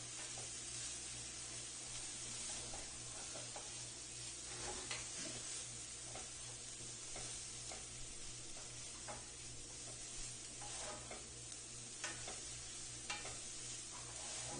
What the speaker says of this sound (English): we're stirring this up.